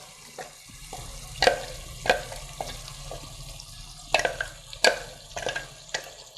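Blended onions, pepper, okpei and crayfish going into a pot of egusi soup, with soft stirring, wet plops and scattered clinks of a spoon against the pot, fairly quiet and close.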